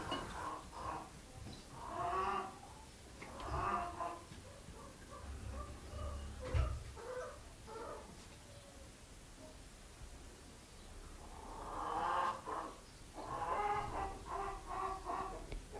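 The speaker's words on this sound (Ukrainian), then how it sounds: "За вікном цілий хоровод курей." Several hens cluck in bursts from a little distance outside a village house window, their calls rising and falling in clusters over a low outdoor background.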